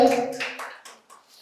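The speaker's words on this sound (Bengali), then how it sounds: "একবার জোরে হাততালি হয়ে যাক ম্যাডামের জন্য" Applause at a quiz competition award presentation in a medical college hall, a short burst of clapping that fades quickly after a loud start.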